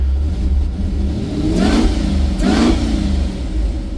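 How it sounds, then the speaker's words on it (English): A supercharged 1955 Chevrolet 3100 pickup's engine idles with a low rumble, then revs twice in close succession, each rise carrying a whining supercharger note before easing back down. "she does have a good bit of supercharger whine"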